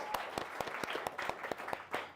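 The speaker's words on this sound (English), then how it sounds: "give her a massive round of applause" A crowd claps steadily, with sharp individual claps standing out over a dense wash of applause, moderately close.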